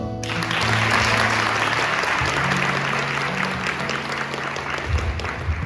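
A congregation in church applauds during a sermon, a full, steady wash of clapping from many people, loud and continuous, with a low hum beneath.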